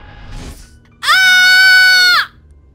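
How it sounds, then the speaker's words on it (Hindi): A girl lets out a single loud, sustained high-pitched scream lasting about a second, preceded by faint background sound, in a horror story scene set in a moving car. "इतने में जूली चिल्लाती है"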